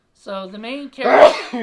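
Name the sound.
sneeze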